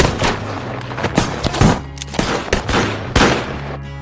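Rapid gunfire from a film shootout in a Western, with repeated overlapping shots and bursts crackling over a low rumbling score, loud and close throughout.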